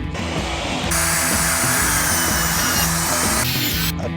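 A table saw makes a crosscut with a miter gauge, giving a steady, loud mechanical whine with a rhythmic chattering pulse. The cut runs for a few seconds and ends abruptly, with no voices.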